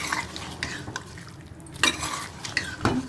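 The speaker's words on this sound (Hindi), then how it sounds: "इसके साथ ही मैं ये गोभी भी डाल दूँगी, ताकि जो है गोभी भी हमारी आलू के साथ गल जाए। इसी तरह से मैं इसको मिक्स कर लूँगी" Potatoes and cauliflower stirred together in a pot, with a spoon scraping and knocking against the metal in uneven strokes over a low background hiss, close and moderately loud.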